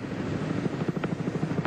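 A TV news helicopter flying over the 1982 Bathurst motor race, its rotor chopping in a fast, even pulse at moderate distance with no voices.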